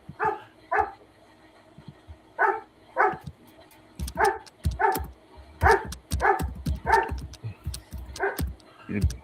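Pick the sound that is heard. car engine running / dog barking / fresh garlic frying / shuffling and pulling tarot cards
dog barking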